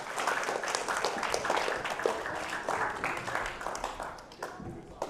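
Audience of a student church gathering clapping steadily, a dense, moderately loud patter that holds for several seconds before thinning out, with some voices mixed in.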